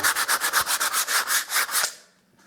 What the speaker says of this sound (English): Just a little bit more sanding on that.